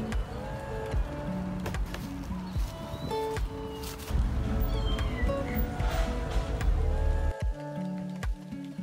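A street kitten meows a few times amid a busy mix of background noise and tonal sounds, with no talking.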